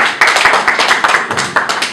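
A conference audience claps steadily and fairly loudly, a dense run of many hands with a quick uneven rhythm, heard without any voices over it.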